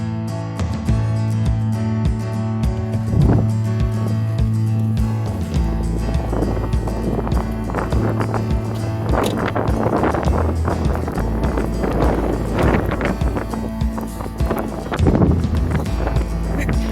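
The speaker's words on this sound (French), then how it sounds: "Il y a du vent, ça se voit." Steady, loud wind buffeting the microphone outdoors, a constant low rumble with gusts throughout.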